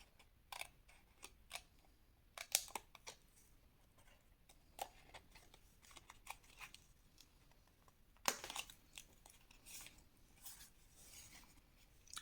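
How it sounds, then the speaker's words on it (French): Scissors snip through folded paper along the fold line for a scrapbooking gift, quiet close clicks and short cuts in irregular bursts with pauses between. "Vous allez couper sur cette ligne de pliure."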